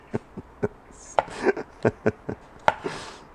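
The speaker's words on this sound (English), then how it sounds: "like I say, just chop away" Knife chopping cherry tomatoes on a board for bruschetta, about a dozen sharp irregular thunks in quick succession, close and loud with no talking.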